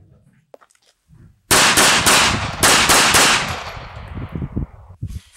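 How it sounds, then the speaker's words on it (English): Five or six sharp, loud shots from a SIG P239 9mm compact pistol fired in quick succession at close range, each crack ringing out before fading, with faint sounds around before and after. "This is a good shooting little pistol though."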